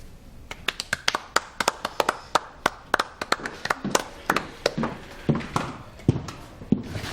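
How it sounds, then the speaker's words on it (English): Hands clap in a scattered, uneven run of sharp claps at the opening of a bistro, mid-loudness and fairly close, with no talk over them. The count stays thin, like a handful of people applauding on cue. "That's when you applaud."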